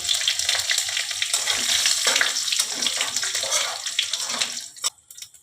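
Whole cumin seeds, bay leaf and dried red chilies dropped into hot oil, giving a loud, dense crackling sizzle that holds steady before tapering off at the end.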